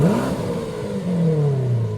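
A 2007 Audi B7 RS4 engine catches and revs, its pitch sliding and settling into a loud, close idle rumble.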